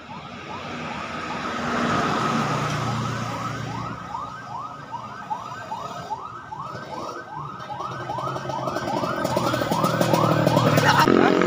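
A wailing ambulance siren sweeps up and down over and over, steady and fairly loud, with traffic rumble underneath that grows toward the end.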